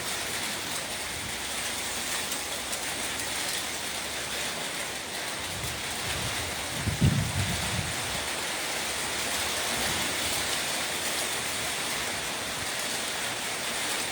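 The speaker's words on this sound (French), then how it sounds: "Un peu de pluie, un peu." A steady hiss of light rain falling during a storm in Isan, Thailand, soft and even, with one brief louder patter partway through.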